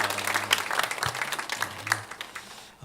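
A church congregation at a Sunday service claps in a short burst of applause, moderately loud and fading out near the end.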